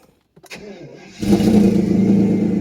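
A few clicks, then the engine of a 1992 Mercedes 600SEL cranks and catches, settling into a loud, steady idle with a low rumble close by; the exhaust has a leak.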